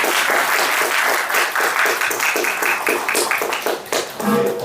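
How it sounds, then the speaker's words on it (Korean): Dense, sustained applause from a sizable lecture audience, loud and close throughout, tapering slightly near the end as a voice begins. "다시 한번 큰 박수 부탁드리겠습니다"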